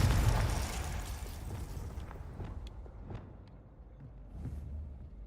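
Confringo fire spell explosion in Hogwarts Legacy, a loud booming blast that rolls off into a long fading rumble, followed by a few faint pops and crackles.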